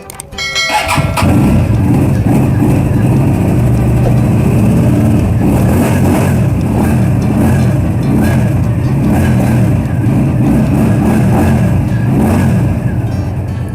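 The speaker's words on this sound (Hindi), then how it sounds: "तो अभी मैं बाइक को स्टार्ट करने लगा हूँ, आप साउंड सुनें इसका।" A twin-cylinder motorcycle engine fires up after a brief crank, then idles with a loud, throbbing, uneven beat and occasional revs, close by and steady throughout.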